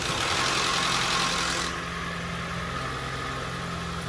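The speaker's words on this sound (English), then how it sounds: "Nice running, brand new engine, third gen Prius." A third-generation Toyota Prius with a brand new replacement engine runs steadily at idle, a smooth continuous hum that drops slightly in level partway through and carries on evenly without voices.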